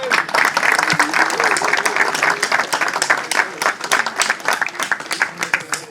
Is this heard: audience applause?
yes